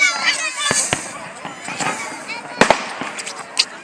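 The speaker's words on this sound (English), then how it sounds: "They need to stop with these fake ass fireworks." Fireworks crackle and pop in the distance, several sharp bangs scattered irregularly, with a voice talking over them.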